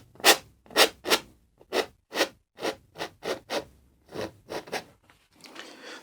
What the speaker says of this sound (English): Just scraping off that excess paint, leaving that edge to the mountain.